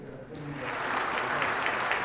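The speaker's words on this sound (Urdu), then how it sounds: "ایک دفعہ پھر تالیاں ہونی چاہیے سب کے لیے." Audience applause for finalists at a Ramadan quiz competition grand finale, steady dense clapping that swells after a brief quieter start and holds strongly to the end.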